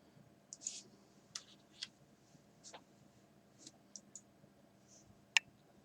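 A computer mouse on a Windows 10 machine gives a scattered series of sharp, quiet clicks at irregular intervals in an otherwise hushed room.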